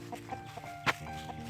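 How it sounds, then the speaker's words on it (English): Hens cluck softly in a small backyard flock, a few short, faint calls scattered over a quiet background. "Oh, Tricky, you're going to scare the birds to death."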